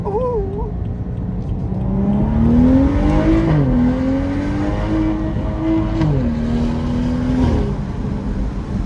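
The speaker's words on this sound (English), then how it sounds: "I'm gonna floor it once just for you guys here." A car accelerates hard on a Northern Colorado drive, the engine revving loudly and climbing through gears with steady rising tones and brief dips at the shifts, heard from inside the cabin with a faint voice at the start.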